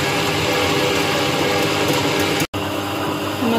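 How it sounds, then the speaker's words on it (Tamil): Electric wet grinder running with urad dal for idli batter, a loud steady motor drone with grinding rumble that continues throughout, briefly cutting out near the end before resuming. "இப்போ நம்ம கிரைண்டர் ஆன் பண்ணிக்கலாம்."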